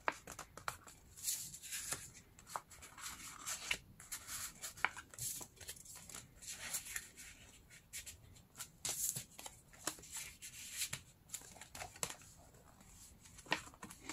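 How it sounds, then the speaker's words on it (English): Credit cards slide one after another into the slots of a handmade paper holiday journal holder, a soft, close papery shuffling with light scrapes and taps, no voice over it. "You can take your credit cards and place them to those slots."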